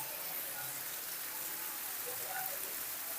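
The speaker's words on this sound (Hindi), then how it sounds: "बहुत तेज़ बारिश हो रही है।" Steady, dense heavy rain pouring down on a street in Lahore with a constant broadband hiss, no pauses, nearby and loud.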